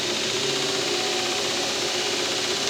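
A steady, loud, close abrasive whir from a prototype lathe-driven belt sander running near its top speed of 2400, with a continuous gritty rushing hiss and no pauses.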